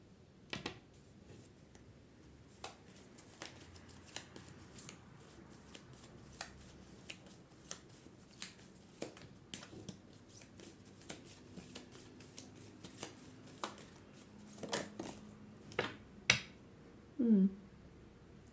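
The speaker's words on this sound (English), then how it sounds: "I'm just gonna take one more oracle card." Oracle cards are shuffled by hand, making a series of soft, crisp riffles and taps at an irregular pace. The sounds are close but quiet, with a few denser flurries near the end.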